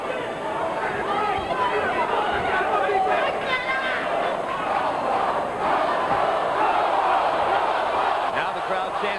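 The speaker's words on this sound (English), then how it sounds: "Now the crowd chants for Bowe." A dense boxing-arena crowd chants for Bowe during the Bowe vs Donald fight, a loud, continuous roar of many voices with rhythmic swells that fills the whole stretch.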